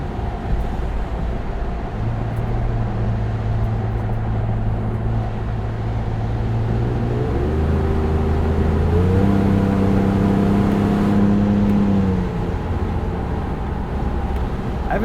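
Ford Bronco with a 2.7L V6 and MRT axle-back exhaust being driven, a steady close engine drone that rises in pitch through several gear changes, loud and continuous with no voices.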